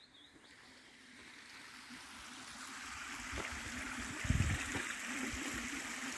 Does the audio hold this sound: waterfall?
yes